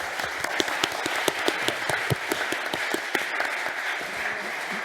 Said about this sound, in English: so that everyone applauds you once again